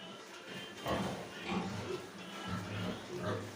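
Boar grunting while mounting a sow, repeated low snorting oinks in irregular bursts close by, with a person talking in the background.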